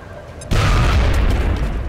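A frag grenade detonates in the XCOM Enemy Within video game: after a brief quiet moment, a sudden loud boom hits and rolls on as a sustained, heavy rumbling roar.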